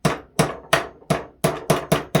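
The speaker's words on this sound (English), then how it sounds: "You take a nail, okay? Take yourself a nice light hammer" A light hammer taps a nail into wood in eight sharp, evenly spaced strikes, close and clear with ringing decays between blows.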